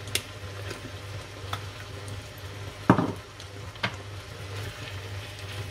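Food sizzles in a pan seasoned with pepper and kebab spices, a steady, moderate frying hiss with a few sharp clinks of utensil against the pan.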